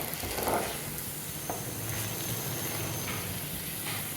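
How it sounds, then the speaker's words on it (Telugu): Chicken fries in a pan with chili powder, ground coriander and curry leaves, giving a faint, steady sizzle with a few soft stirring scrapes spread through it. "అది కూడా వేసేసుకొని బాగా వేయించేసుకోవాలి."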